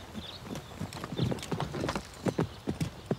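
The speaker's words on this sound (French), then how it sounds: "Cobalt est magnifique et Carole le monte avec une grâce indéniable" Hooves of a ridden horse clip-clop in a steady, moderately close rhythm, each footfall a sharp knock over a faint background, with no talking.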